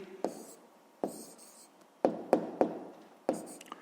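A pen writes an answer by hand on paper during a sixth-grade math exercise, giving soft, close scratches and taps in short irregular strokes against a quiet room.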